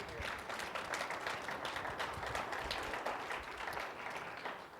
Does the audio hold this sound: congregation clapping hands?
yes